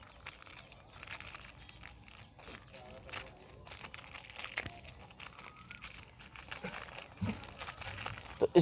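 Plastic wrapping on a packaged gift crinkles and rustles as it is opened, soft and close, with scattered crackles and someone talking faintly in the background.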